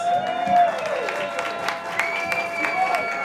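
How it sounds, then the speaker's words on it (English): A poetry slam audience at a festival in Zimbabwe claps briefly, moderately loud, over a sustained musical tone and scattered crowd noise. "let's give him a round of applause"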